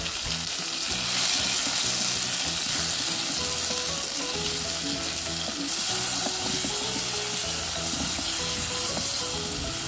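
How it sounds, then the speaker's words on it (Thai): Tomatoes hit a pan of hot oil with golden fried garlic and stir-fry in a loud, steady sizzle, with spatula scrapes and clicks close by throughout and no voices. "กระเทียมเหลืองหอมแล้วนะคะเราก็ใส่มะเขือเทศลงไปผัดได้เลยค่ะ"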